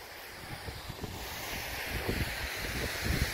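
Wind gusts across an open moorland valley at a wild camp on Ovenden Moor, a constant blustery roar with low buffeting thumps against the microphone, steady throughout and without voices.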